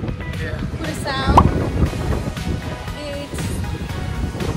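A strong wind buffets the microphone on the coast of Curaçao, producing a constant rumbling roar, with a short high squeal partway through and people talking over it.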